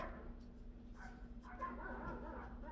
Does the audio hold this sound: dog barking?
yes